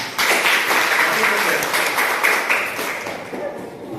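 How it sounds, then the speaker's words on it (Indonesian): Classroom students clap their hands together in a geography lesson, a loud dense burst of many hands that starts abruptly and fades gradually over several seconds, with no talking over it. "Oke, tepuk tangan."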